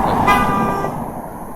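A short car horn toot rings out over steady road noise, loud at first and then fading into the rumble of traffic.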